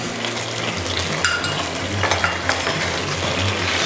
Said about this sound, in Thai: ต้องคนทันทีค่ะ